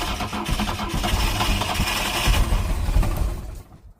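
Boat engine cranking and sputtering steadily while it is being started, loud and close, for about three and a half seconds, then cutting off abruptly.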